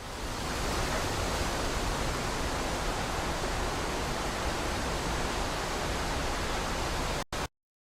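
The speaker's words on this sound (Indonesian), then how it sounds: "Suara yang baru saja kita dengarkan adalah suara angin yang bertiup." Wind blows in a steady, loud, broadband rush with no gusting pauses, then cuts off abruptly just before the end.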